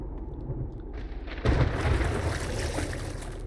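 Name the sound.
thunderstorm in video game 7 Days to Die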